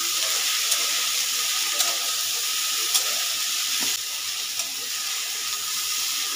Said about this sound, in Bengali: একসঙ্গে করে ভেজে নিচ্ছি।